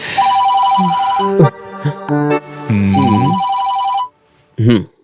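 Telephone ringing in a scene from a Hindi-dubbed South Indian film, a bright electronic ring tone mixed with voices talking over it, interrupted and resuming, then cut off near the end.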